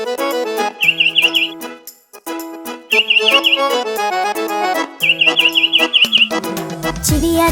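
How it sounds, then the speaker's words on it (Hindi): Bright, repeated bird-like chirps in quick bursts of three to six, standing out over a bouncy children's rhyme melody with no singing, giving the sound of a sparrow calling. "चिड़िया चुगने आई दाना, चीची चीची गा कर गाना"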